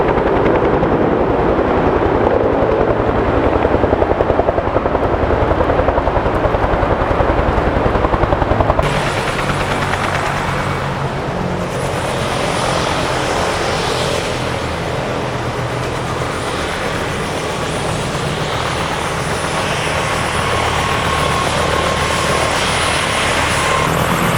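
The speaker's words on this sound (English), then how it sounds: "Sounds like the helicopter's back." A helicopter on a rescue at Sierra Point thunders continuously with a steady rotor chop, loud and close at first, then a little more distant and hissy as it moves off.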